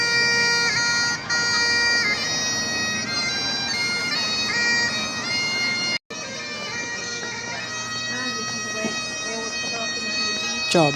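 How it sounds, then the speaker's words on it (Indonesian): A street musician busking in London, a steady tonal melody with sustained notes carrying over a busy outdoor background, fairly loud and continuous throughout, with a brief dropout midway. "ya itu suara pemusik jalanan"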